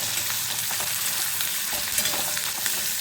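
Medium-sized onion slices fry in oil over a medium-to-low gas flame for a Bengali katla kaliya, a steady close sizzle with soft stirring crackles throughout and no voices.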